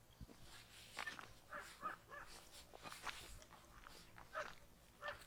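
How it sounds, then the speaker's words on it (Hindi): Dogs bark repeatedly in the distance, faint and overlapping, over a low outdoor background. "और इसके जस्ट उस तरफ कुत्ते बहुत तेज भौंक रहे हैं"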